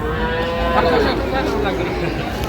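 A Sahiwal bull at a cattle market lets out one long, loud, close moo, with faint chatter in the background.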